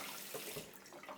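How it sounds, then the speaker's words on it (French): Water running through a sieve to rinse tomato seeds, a steady faint wash of flow with slight splashing, brief and even throughout. "on a juste à les rincer"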